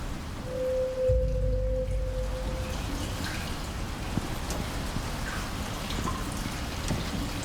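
Steady rain falls in the survival game Icarus at night during a storm, a continuous patter of drops on surfaces with a brief low tonal hum near the start.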